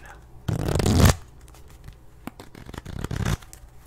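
Playing cards shuffled fast and aggressively, two loud riffling bursts separated by scattered softer flicks and card handling, close and crisp.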